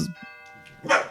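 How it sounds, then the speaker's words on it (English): A doorbell rings indoors during a podcast recording, a sustained tonal chime heard over a short stretch with brief voice sounds at the start and end. "That's the doorbell, so that might be our cue as well."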